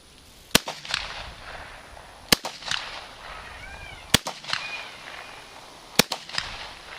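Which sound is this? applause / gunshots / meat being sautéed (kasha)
gunshots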